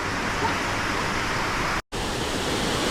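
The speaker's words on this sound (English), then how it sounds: "These are really beautiful falls." A waterfall in Guam rushes in a steady, dense broadband roar, close and loud, with a brief cut to silence partway through.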